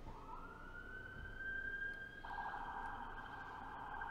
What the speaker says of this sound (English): annoying sirens